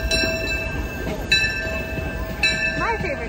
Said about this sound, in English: Oh, the train's coming by.